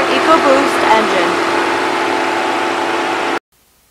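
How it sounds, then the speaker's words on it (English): A 2-liter I4 EcoBoost engine in a Ford Edge runs at a steady idle for about three seconds, a constant mid-range hum that stops abruptly. "Under the hood is a 2-liter I4 EcoBoost engine."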